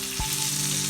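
Tuna pieces fry Kerala style in a pan over a medium flame, a close, steady sizzle with a faint stir near the start over a low hum.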